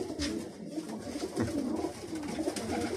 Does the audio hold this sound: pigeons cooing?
yes